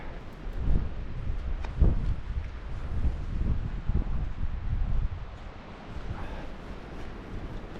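Blustery wind buffets the microphone in the seaside town of Ustka, a low rumbling roar with a few stronger gusts near the start, continuing steadily throughout with no talk.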